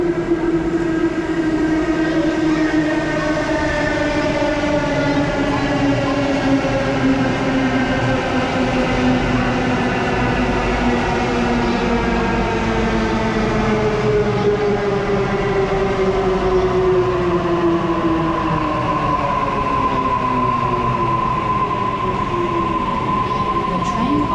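A double-decker train in Australia hums and whines steadily while riding, its electric motor tones rising and falling in long sweeping pitches, loud and close throughout with a low rumble.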